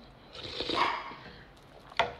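A dog barks once or twice indoors, a muffled, moderately close yelp followed by a short sharp bark near the end, with no talking.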